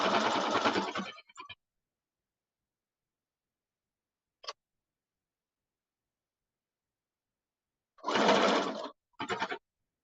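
Short bursts of a sewing machine stitching a bomber jacket, a close buzzing run at the start and two more near the end, separated by silence and a single faint click.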